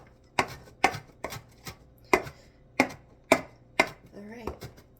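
Vegetables for iguana food are chopped with a knife on a board, making about ten crisp, evenly spaced thunks close by. A brief voice is heard near the end.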